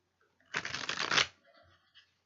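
Cards being shuffled up close in a dense, riffling burst lasting under a second, then a few soft handling rustles.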